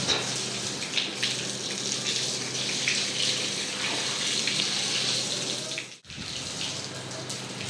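Water running from a household tap for washing, a steady close gushing stream that briefly cuts out near the end before resuming.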